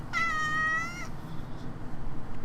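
A cat gives one clear, close meow of about a second with a steady voice, followed by faint background noise and quiet rustling.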